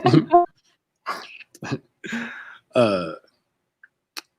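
A person burps after drinking seltzer water, one fairly loud throaty belch among a few short breathy vocal bursts and pauses, close to the microphone in a quiet room.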